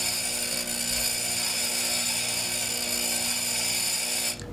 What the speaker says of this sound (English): Also notice that I'm spinning the drill at a relatively low RPM.